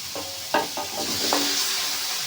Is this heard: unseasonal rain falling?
no